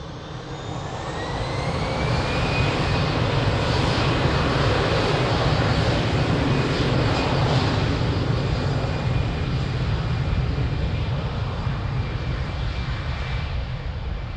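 A jet airliner rolls and climbs out from runway 02 at Lisbon Airport, its engines building to a loud, sustained roar with a rising whine, then holding steady as it departs.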